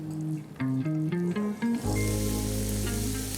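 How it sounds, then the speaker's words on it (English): Grated apples drop into hot desi ghee in a pan, and a bright, steady sizzle starts about halfway through beneath a light background melody. "once ghee is hot, I'll add grated apples"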